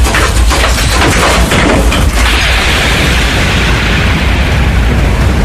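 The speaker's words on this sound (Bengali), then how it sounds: "একটা খড়খড়ি দুমদাম করে খুলে গেল" A wooden window shutter bangs open during a raging storm, a loud burst of booming thuds over a dense, roaring wash of wind and rain that continues steadily afterward.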